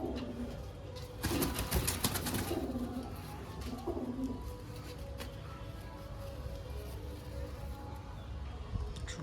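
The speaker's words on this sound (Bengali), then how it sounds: "চোখটা দেখুন, ম্যাড্রাসি পায়রা।" Madrasi pigeons coo softly in low, rolling calls against steady background noise, with a brief flutter of wings and some clatter early on.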